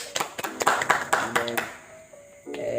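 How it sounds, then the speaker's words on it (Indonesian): A small podcast studio audience clapping for an Islamic preacher, a short run of distinct close claps from a few people that stops abruptly after about two seconds, then a quiet pause before a voice resumes. "Bisa kasih tepuk tangan untuk Ustaz."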